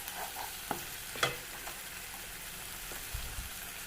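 Garlic sautés in a pan for a samosa filling, giving a quiet, continuous sizzle with a few light taps and scrapes of stirring.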